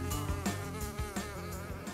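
An animated video game fly buzzes loudly in close, a tonal droning whine that swells and dips in repeated pulses over a musical backing, with no speech.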